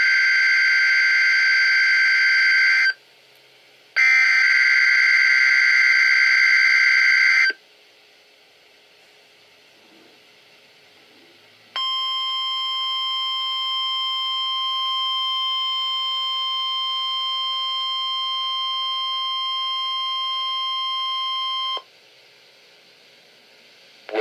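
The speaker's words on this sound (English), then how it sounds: "The preceding tone signals are a test of the alarm device of this weather radio" Weekly alarm test on a NOAA Weather Radio broadcast: loud, sustained electronic tone bursts, two strong multi-tone blasts separated by a short gap, then a long steady single tone, with quiet stretches between.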